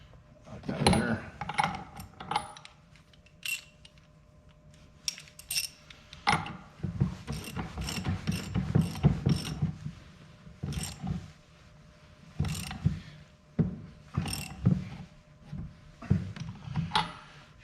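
A socket ratchet tightens a fitting on a 1995 Dodge Cummins fuel pump during a FASS lift pump install, giving bursts of quick metallic clicks separated by pauses, with scattered tool clanks at close range.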